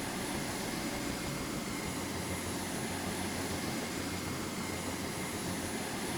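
A steady, faint drone rises from the engine of an Albatross aircraft in the naval strategy game Carrier Command 2, with no voices over it.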